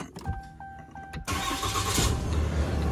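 A stock 2019 Ram 3500 dually pickup cranks briefly and fires up abruptly, settling straight into a loud, steady idling rumble close by.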